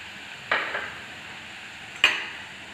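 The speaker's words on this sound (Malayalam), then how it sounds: "എണ്ണ നല്ലപോലെ ചൂടായി വരുന്ന സമയത്ത് ഇതിനെ ഇട്ട് നല്ലതുപോലെ ഫ്രൈ ചെയ്തെടുക്കാം" Sweet ada snacks drop into hot oil for frying, each landing in a short, sharp sizzling burst. Two separate bursts come about a second and a half apart over quiet background hiss.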